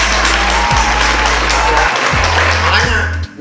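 An audience applauds policewomen, a dense, steady wash of clapping filling the whole stretch with a low hum and some voices underneath, cutting off abruptly at the very end.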